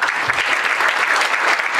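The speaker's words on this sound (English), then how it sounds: "So let's give ourselves a round of applause." Steady, dense applause from a conference audience, continuous and even throughout the short stretch with no talking over it.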